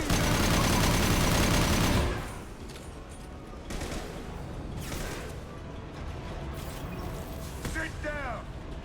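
Video game gunfire in Mass Effect Legendary Edition 2: a dense, loud barrage rattles for a couple of seconds, then scattered bursts continue under shouted voices amid the din of a battle.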